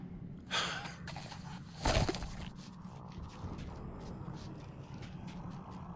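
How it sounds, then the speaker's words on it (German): Heavy, ragged breathing in the post-apocalyptic shooter Metro Exodus, a couple of loud gasping breaths up close followed by fainter rhythmic panting over a low ambient rumble. "Irgendwer atmet hier sehr stark."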